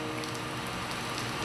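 Rain pours steadily on a film set in Seoul during shooting of a rain scene, a dense, continuous hiss filling the air, close and even with no voices.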